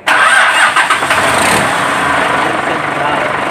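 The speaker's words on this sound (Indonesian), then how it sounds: "baru setelah ini mesin dinyalakan" A car engine is started during an alternator charging check: a sudden loud crank and catch up close, then the motor settles into a steady idle.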